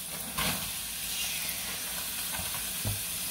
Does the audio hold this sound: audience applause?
no